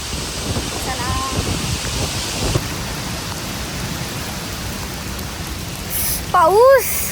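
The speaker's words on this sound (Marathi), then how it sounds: "किती पाऊस लागतोय" Heavy rain falling, a steady hiss of rain with a brief vocal sound near the end.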